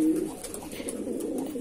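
A tippler pigeon gives a short, soft cooing call up close, a brief low murmur over faint background noise.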